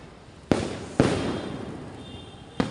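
Diwali fireworks outdoors: three sharp, loud bangs spaced about half a second and then over a second apart, each followed by a lingering crackling rumble, with no talk.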